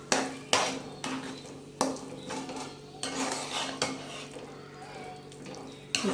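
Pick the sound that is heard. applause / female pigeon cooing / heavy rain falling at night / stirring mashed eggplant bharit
stirring mashed eggplant bharit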